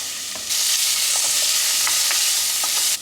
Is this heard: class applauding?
no